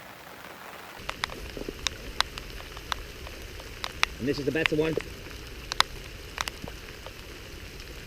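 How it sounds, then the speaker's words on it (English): Steady rain patters down across a clay pit during a bream fishing session, a soft continuous hiss with scattered sharp drips and taps close by, and a voice speaks briefly over it. "So just as the rains come on, the fish have come on."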